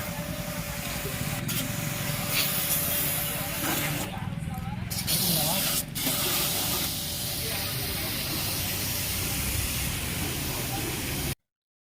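A high-pressure washer sprays an air-and-water mixture onto a car, a continuous loud hiss with brief interruptions partway through, recorded close up.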